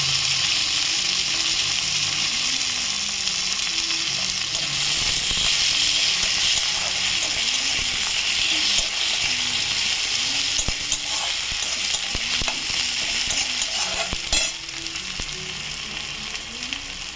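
Onion frying to brown in a pan, with tomato about to be added, gives a dense, continuous sizzle and crackle, broken by occasional metallic scrapes and clicks of a utensil. It holds steady and close, easing slightly near the end.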